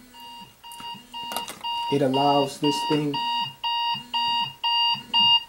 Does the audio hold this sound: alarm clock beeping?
yes